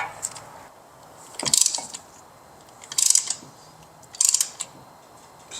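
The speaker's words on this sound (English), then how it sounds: "Start ratcheting it away." A ratchet tool compresses the brake caliper pistons on a Cadillac Escalade, giving three evenly spaced bursts of crisp clicking, close and fairly quiet, separated by brief pauses.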